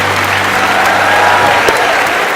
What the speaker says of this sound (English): a huge round of applause for Giovanni Vito